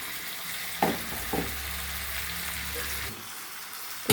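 Chicken curry with a little sugar added sautés in a pan, giving a steady low sizzle with a couple of sharp spoon knocks against the pan early on.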